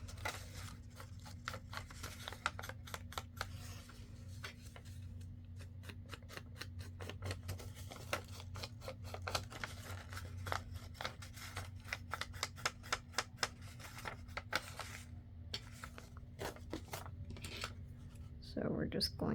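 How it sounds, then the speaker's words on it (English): Scissors snip through fabric while patchwork pockets are cut, with a long run of crisp, closely spaced cuts that come faster toward the end, heard close up over a steady low room hum. "Cut this at a little bit of an angle. Cut up to there."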